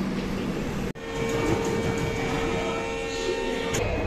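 Chennai to Bangalore Mail Express train running steadily with a constant rumble and tonal hum from inside the carriage, a brief dropout near one second, no speech.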